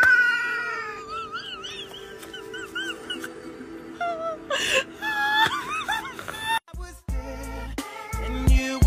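A cat cries and meows in a string of wavering, whiny wails over a couple of seconds, fairly close and loud, with household noises and a few thumps around it.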